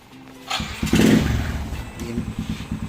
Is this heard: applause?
no